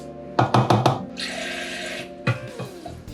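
Water poured into a cup for cooking quinoa in a kitchen, a short splashing pour followed by a few knocks and light clinks of the cup nearby.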